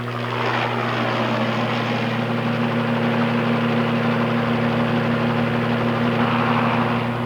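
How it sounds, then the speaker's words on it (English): A low-flying crop-spraying helicopter drones steadily and loudly overhead, its rotor thrum and engine hum constant and close. "The helicopter pilot has to fly very close to the ground."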